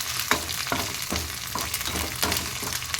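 Fish roe fries in a pan with ginger paste, giving a continuous bright sizzle with periodic scraping stirs and small crackles, close up, with no talking.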